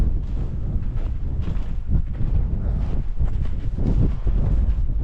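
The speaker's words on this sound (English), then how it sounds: "But the winds were consistently strong." Strong, steady wind buffets a Hilleberg Soulo tent pitched in snow in freezing conditions, a continuous rough roar with gusty surges and flapping fabric, close and loud.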